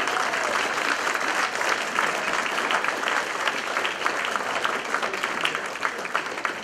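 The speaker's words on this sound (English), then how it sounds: "I'd like us all to give them a big round of applause for what they've achieved this evening." Sustained, dense applause from a large audience at a rugby club prize-giving evening, steady and loud from start to finish with no break.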